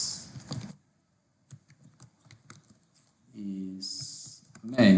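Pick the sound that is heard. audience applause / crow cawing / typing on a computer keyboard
typing on a computer keyboard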